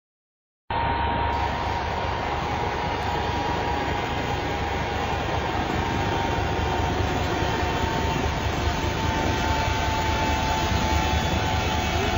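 Aircraft noise from an airport video plays back as a continuous, loud roar with a steady engine whine, starting abruptly after a brief silence and holding unchanged throughout.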